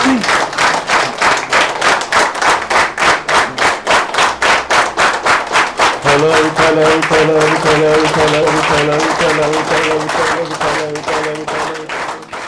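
A meditation gathering claps in unison, a steady rhythmic beat of many hands, loud and close, with a tonal musical drone joining partway through and continuing under the clapping.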